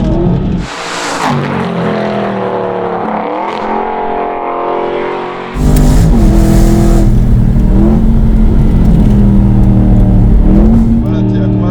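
Aston Martin V8 Vantage Mansory engine revving hard under acceleration, a loud, close, continuous roar that climbs in pitch and surges louder midway, with people talking over it.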